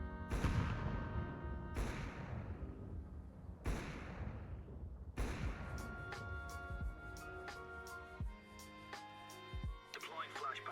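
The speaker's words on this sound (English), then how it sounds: "Grenade out." Grenade explosions in a shooter video game: a series of heavy booms with long decaying tails, several spaced a second or two apart, followed by rapid gunfire crackle.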